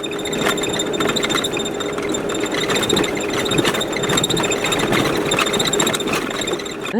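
An old van rolls over a bumpy, rough, thawing snowpack road, giving a steady close engine drone with continuous rattles, knocks and thumps from the rutted surface, no voices.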